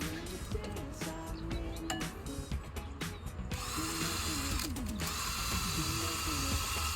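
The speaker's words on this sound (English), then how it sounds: "I've got a wire brush on the end of here, and that's to go on the inside of the caliper." A power drill spins a wire brush inside a Bentley brake caliper, giving a loud, continuous grinding whir with ratcheting bursts and short stops, close up and with no talk over it.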